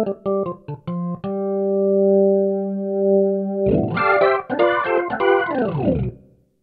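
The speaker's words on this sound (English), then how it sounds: "So have a listen to the jazz organ sound." Jazz organ voice on a Kawai CN29 digital piano with a Leslie-style rotating speaker effect: a few short stabbed chords, a long sustained held chord, then a busier run of bright, swirling chords, played alone.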